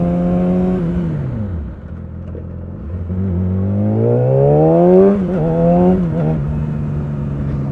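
A Yamaha R6 sport motorcycle accelerates hard through the gears, its loud engine whine climbing in pitch, dropping at shifts and rising again, heard up close.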